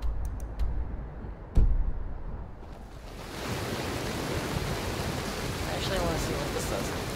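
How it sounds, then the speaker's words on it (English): Rain in Skyrim Special Edition: after a few sharp clicks and a thump, a dense, steady hiss of rainfall rises and fills the scene, loud and continuous to the end. "Rain. The rain is too noisy."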